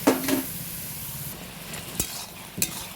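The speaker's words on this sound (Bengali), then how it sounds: "এবার সেদ্ধ করা কুমড়োটা দিয়ে দেবো, দিয়ে নাড়াচাড়া করবো।" Soft scraping and stirring of boiled pumpkin in a pan with a gentle sizzle, punctuated by a few sharp clinks of a utensil against metal.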